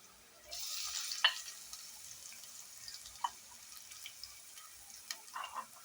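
Crushed ginger and garlic dropped into hot oil give a soft, steady sizzle with scattered pops and clicks of a spoon, fairly quiet and close, with no talking.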